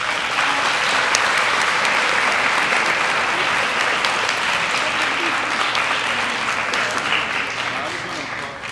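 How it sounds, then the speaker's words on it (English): Sustained applause for teachers from a sizable crowd at a school final assembly, steady and dense clapping that holds throughout and tapers slightly toward the end. "let's give them a round of applause"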